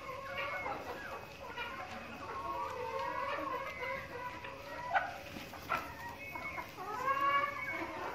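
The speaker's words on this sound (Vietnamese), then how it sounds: "Đây là mô hình chăn nuôi gà nhốt chuồng của khách hàng bên mình ấy." Chickens in a caged poultry farm cluck and squawk continuously, many birds at moderate distance with occasional louder calls.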